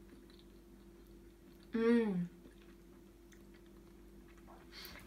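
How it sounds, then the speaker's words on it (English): Someone takes a bite of vegan tikka in sauce, with a short, close, wet chewing burst followed by quiet background and a small hum of approval. "I'm just about to try the wicked cheeky tikka"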